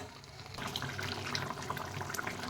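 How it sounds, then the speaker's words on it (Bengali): Water is poured into a pan of frying soybean curry, giving a soft, continuous splashing and sizzling wash at low volume. "এবার এর মধ্যে আমি জল দিয়ে দেবো।"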